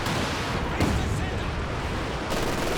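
A Land Mattress rocket barrage in Company of Heroes 2 on a winter map, a continuous rumble of blasts and booming impacts with a sharper burst near the start and another toward the end.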